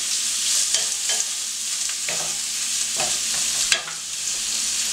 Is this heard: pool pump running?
no